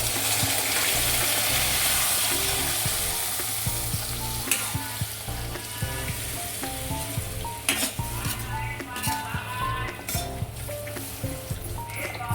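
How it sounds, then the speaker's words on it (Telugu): Onion with ginger garlic paste frying in a pan for dhaba-style Afghani egg kurma, a steady close sizzle throughout with occasional stirring scrapes and light clinks of the spoon against the pan. "అదంతా వేసి ఫ్రై చేసుకున్నాను."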